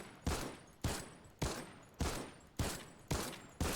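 Seven evenly spaced single gunshots from a full-auto rifle fired in short taps in The Simpsons Season video game, each a loud sharp crack with a brief tail, about every half second, with no talk.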